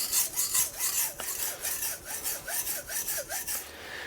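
Rhythmic rasping strokes of a blade rubbed back and forth on a Japanese natural whetstone, a Gunma Komaki Nakatoishi, steady and fairly close, with no voices.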